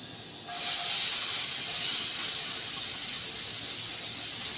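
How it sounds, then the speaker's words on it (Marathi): Sliced onions hit hot oil in a pan over a high flame, raising a loud, steady frying hiss that starts suddenly and keeps going without break, with no one talking over it. "आता चांगला कांदा हा लाल करायचा, मोठ्या गॅसवरच करायचा"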